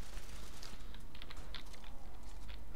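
Faint computer keyboard typing during live gameplay commentary, scattered quick key clicks in an irregular rhythm over a low steady background hiss.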